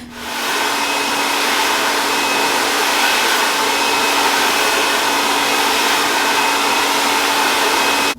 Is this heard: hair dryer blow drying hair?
yes